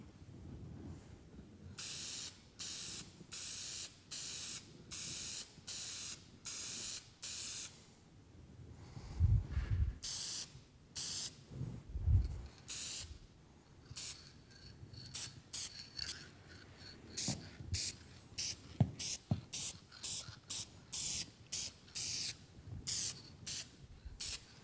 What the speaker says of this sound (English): let me grab some lacquer and finish this bad boy off